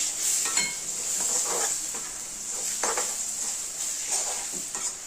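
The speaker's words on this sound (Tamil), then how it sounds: "தக்காளி கொஞ்சம் வதங்கட்டுங்க" Tomatoes sautéing with masala in a pan, a constant bright sizzle overlaid with repeated scraping strokes of a spoon against the pan, close and steady with no voices.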